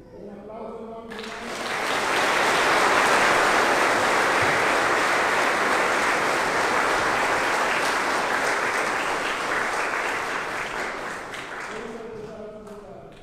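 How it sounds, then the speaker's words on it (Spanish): A church congregation bursts into sustained applause during a Lenten Sunday Mass, swelling quickly to a loud, dense wash of clapping that holds steady and then slowly tapers away. "Un aplauso a Dios"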